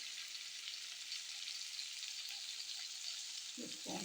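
Chili and cumin powder fry in oil with eggplant, a continuous bright sizzle held steady and close, with a couple of soft stirring knocks near the end.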